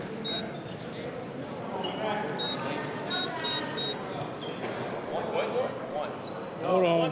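The scoreboard clock at a college basketball game between Columbia International University and Montreat College sounds a series of short, high beeps while officials add time. Crowd murmur and voices carry underneath, with a louder swell near the end.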